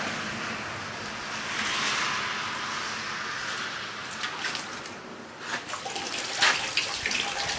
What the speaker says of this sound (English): Let's dunk it in the water here and see what it how it works.